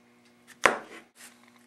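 A knife strikes through an onion onto a cutting board, one sharp distinct chop followed by a couple of softer taps, close and isolated in a quiet kitchen.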